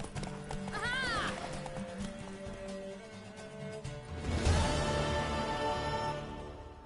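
A horse in The Witcher 3 gallops with quick clip-clop hoofbeats and lets out a rising whinny early on, followed by louder rumbling movement and game music, with a voice heard briefly.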